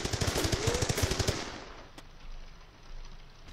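Rapid automatic gunfire from an AK rifle in the Graviteam Tactics war game, a loud burst of about a dozen closely spaced shots that stops abruptly, leaving quiet background rumble.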